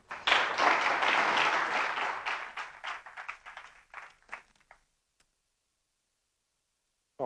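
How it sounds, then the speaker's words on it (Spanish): An audience at a science lecture gives a speaker a round of applause. The clapping is dense and lively at first, then thins to scattered claps and stops into near silence. "Así que adelante, Philip, un aplauso para él y muchas gracias."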